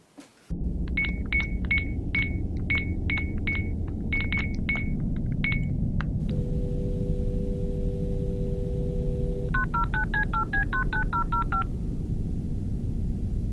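A telephone number is keyed in as a quick series of DTMF beeps, followed by a steady dial tone and then a faster burst of dialing tones, all over a constant low background hum.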